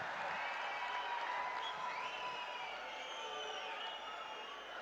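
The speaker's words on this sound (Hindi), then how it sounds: "जोरदार तालियों से स्वागत आदरणीय प्रधानमंत्री जी का।" Crowd applause at a large outdoor public election rally in Jammu, a dense, steady wash of clapping that holds at an even level throughout with no voices standing out.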